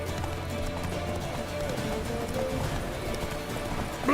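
Roach the horse gallops in The Witcher 3 with quick rhythmic hoofbeats under music and other game sounds, and a voice briefly speaks.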